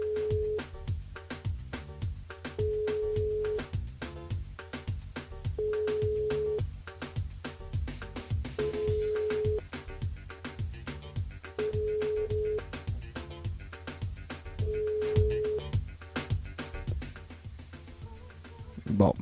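A telephone call rings unanswered during a live radio broadcast, with repeated long electronic ring tones at steady intervals over an ongoing music backing, fairly loud and clear.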